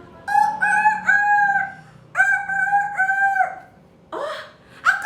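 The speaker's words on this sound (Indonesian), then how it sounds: "Itu namanya ayam." A rooster crows loudly and close, two long cock-a-doodle-doo calls in a row, followed by the start of another crow.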